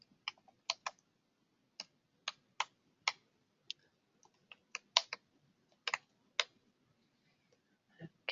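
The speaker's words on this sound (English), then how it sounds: "I can type in the name and address details." Typing on a computer keyboard, close and fairly soft, with irregular individual key clicks and small clusters spread across several seconds, no one speaking over them.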